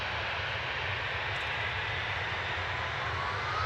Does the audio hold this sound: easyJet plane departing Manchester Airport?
yes